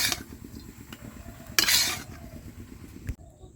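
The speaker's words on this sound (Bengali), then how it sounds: "কাজু আর কিশমিশটা খুব ভালো করে ভাজা হয়ে গেছে আর কালারটা চেঞ্জ হয়ে গেছে।" Cashews and raisins frying in a pan, a soft steady sizzle broken by metal spoon scrapes and clinks against the pan, one louder scrape in the middle, no voices.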